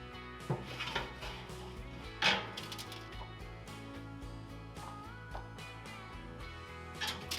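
A beef shoulder roast goes onto the middle shelf of a smoker running at 250 degrees, with several close metallic clanks and rattles of the rack over a steady tonal background hum.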